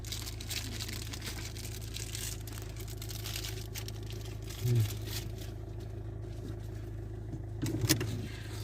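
A car driven along a road produces a steady low engine and road rumble throughout, with a couple of brief rattling bumps and no clear speech.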